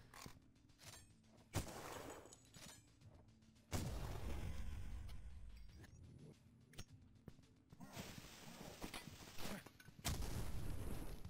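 Sniper gunfire in the shooter Cultic, several sharp cracks and bursts spread across a busy, faint mix of combat noise and impacts.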